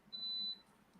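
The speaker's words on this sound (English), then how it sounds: "Beep, beep, beep. Coffee's ready." A coffee maker signals that the coffee is ready with one short, high electronic beep that rings out clearly in an otherwise quiet room.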